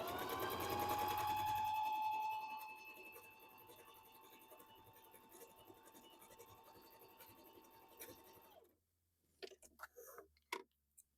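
A Bernina sewing machine stitching a blanket stitch, whirring loudly at first, then running more quietly with a fine rapid ticking rhythm before stopping, followed by a few soft clicks.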